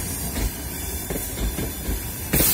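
Long passenger train on the Dnipro–Truskavets route pulling into Truskavets station, a steady rumble and hiss with faint wheel clatter throughout, growing slightly louder near the end, with no talk.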